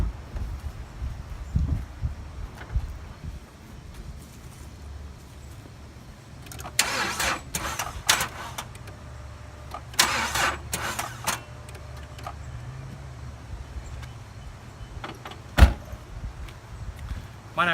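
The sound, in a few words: car engine cranking and starting with a weak battery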